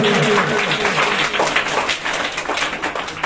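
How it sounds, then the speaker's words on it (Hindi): Audience clapping on a quiz show for a contestant, a dense, loud round of applause lasting a few seconds with faint voices mixed in. "भाई इनके लिए एक बार जोरदार तालियां हो जाएगी"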